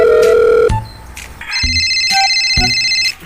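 A cellphone rings loudly and close by with a repeating electronic ringtone melody that stops abruptly near the end, with no talking over it.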